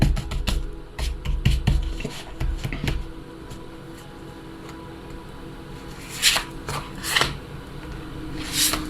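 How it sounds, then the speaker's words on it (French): Tarot cards are spread and slid across a table, producing soft papery shuffles and rubs with scattered taps, close by and fairly quiet, without speech. "je sais que il s'étale pas bien. Elles glissent pas trop, les cartes, là."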